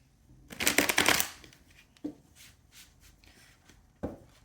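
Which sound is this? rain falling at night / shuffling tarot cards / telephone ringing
shuffling tarot cards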